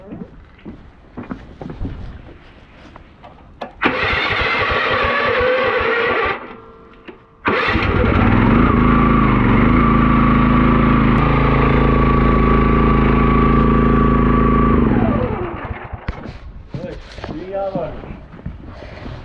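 A boat's marine engine being cranked with the starter and catching, settling into a loud, steady idle after a brief stall, with talk heard before and after.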